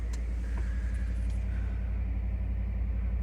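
A Ford F-150 with a Coyote engine idles with exhaust leaks all over, giving a steady, loud low rumble with a faint puttering pulse and no break or change in level.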